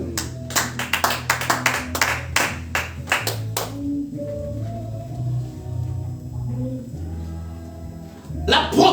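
A congregation at a Sunday church service claps in a quick burst of rhythmic, fairly close handclaps over a held organ or keyboard tone, fading after a few seconds as the music continues.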